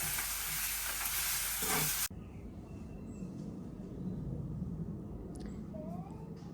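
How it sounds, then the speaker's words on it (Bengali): Sea fish fries with spice paste in a pan, a loud, dense sizzle for about two seconds that cuts off abruptly into quieter outdoor ambience with faint chirps. "মশলাটা কষানো হইতেছে আর মাছটা একটু ভাজা ভাজা হইতেছে সামুদ্রিক মাছ"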